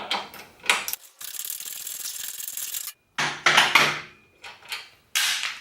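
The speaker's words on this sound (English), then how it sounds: "So we're going to take this bolt out first." A bolt being removed with a ratchet near the rear brake lever during a skid plate bracket installation, bursts of close clicking ratchet strokes broken by short pauses and small metallic handling noises.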